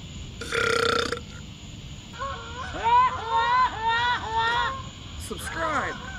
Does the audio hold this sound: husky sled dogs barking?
no